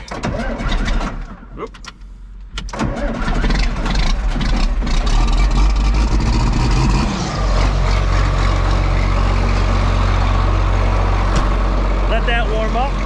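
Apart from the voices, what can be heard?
farm tractor engine starting and idling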